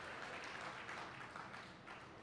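An audience applauds at a Tamil speech event, a steady, faint wash of many hands clapping that continues without a break.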